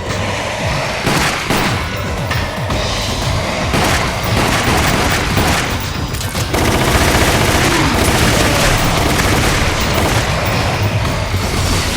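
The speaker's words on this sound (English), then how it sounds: "Oh, a hand cannon." Rapid, loud gunfire from a hand cannon in the Resident Evil 4 Mercenaries mode, heavy booming shots layered densely with the game's music and effects, continuous throughout with a brief dip partway.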